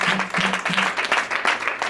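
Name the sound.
audience clapping hands at church service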